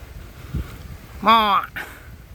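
A single short dog bark or yelp rings out once, fairly close, with a faint thump beforehand and quiet outdoor ambience around it.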